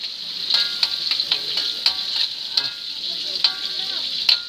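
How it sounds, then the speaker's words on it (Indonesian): Turmeric and chili, with shallots and garlic, stir-fry in oil for nasi goreng: a steady bright sizzle broken by repeated sharp scrapes and clinks of a spatula against the pan, close up and without talk. "Ini agak tumis sedikit, tumis goreng cantik sampai keluar aromanya."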